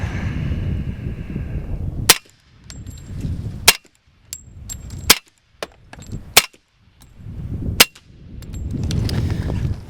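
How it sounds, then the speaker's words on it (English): Five suppressed .45 ACP pistol shots from a tilting-barrel pistol with a direct-thread suppressor, each a sharp muffled crack with a metallic clank, spaced a second or more apart over outdoor background noise. "Probably the quietest 45 ACP that I have ever used."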